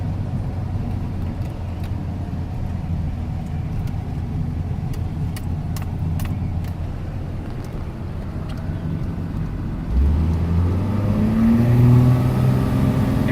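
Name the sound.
1993 Dodge W250 turbo truck engine revving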